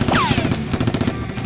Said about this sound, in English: A fierce shootout ensues between Jack and the criminal.